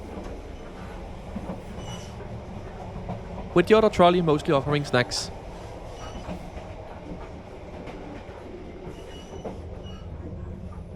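A night train in Vietnam rolls along its rails with a steady low rumble, broken midway by a short burst of squealing wheels and clattering; a person speaks over the running noise.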